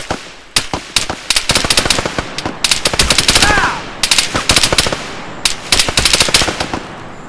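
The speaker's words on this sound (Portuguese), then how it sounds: "Todo mundo me atirando de uma vez só." Sustained bursts of automatic gunfire and rapid single shots from enemies in the military shooter game Arma 3 Apex, loud and dense for the whole stretch, with brief gaps between volleys and no speech.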